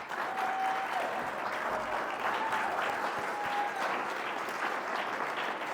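Sustained applause from an audience at a political speech honoring a woman named Alice, dense steady clapping filling the whole stretch at even loudness with no talk over it.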